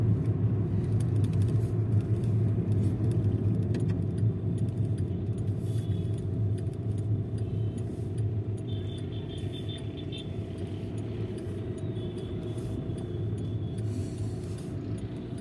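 Vehicles rumbling through a road crossing in dense fog in Alwar, a steady low engine drone from nearby traffic with a faint jingling overhead, no talk.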